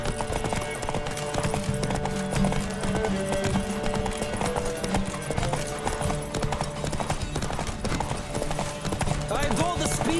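A galloping horse in The Witcher 3 drums out a fast, even run of hoofbeats for the whole stretch, mixed beneath a continuous musical score with occasional speech layered on top.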